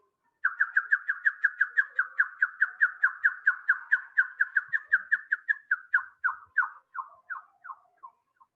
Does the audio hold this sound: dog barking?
no